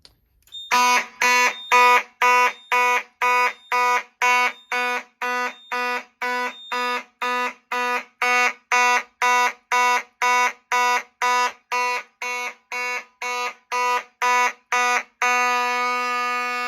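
A fire alarm panel sounds after smoke detector 2400 is activated for an agent release test, giving a loud, steady run of regular electronic pulses that shift to a continuous tone at the end.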